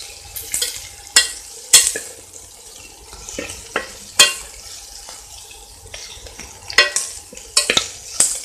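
Onion, green chili and curry leaves sautéing in a pan, with a low sizzle broken by repeated sharp scrapes and clacks of a spoon against the pan, close and without talk.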